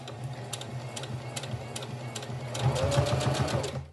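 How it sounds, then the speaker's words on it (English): Sewing machine back stitching fabric for a face mask, a close rapid mechanical ticking that speeds up into a louder burst of stitching near the end. "I do a back stitch here, and I keep this edge, I keep that aligned with this line on the presser foot"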